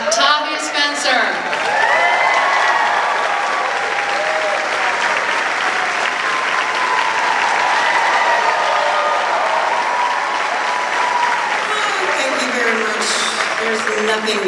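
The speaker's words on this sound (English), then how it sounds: "Nothing greater than applause." Loud, sustained audience applause fills an award ceremony hall, dense clapping from a large crowd continuing steadily throughout, with a few voices briefly heard near the start and end.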